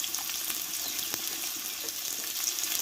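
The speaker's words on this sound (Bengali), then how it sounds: "দেখো তেলটা গরম করে নিয়েছি এবার কেটে ধুয়ে রাখা আলুটা আমি কষে নেব" Cut potatoes fry in hot oil with turmeric powder, a constant bright hiss of sizzling with a few faint crackles, steady and fairly close, with no voices.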